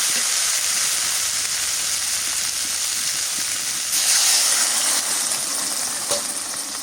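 Water goes into a hot pan of frying fish curry in a Bangladeshi village kitchen, a steady broad hiss that swells into a louder steamy surge for about a second before settling back.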